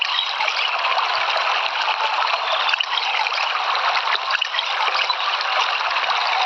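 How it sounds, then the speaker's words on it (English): Water trickling and pouring steadily into a container in the audio survival game Life and Nature, made for blind players, a continuous close, even stream with no talk. "ఇట్లా ఫిల్ చేసుకోవాలన్నమాట వాటర్ని."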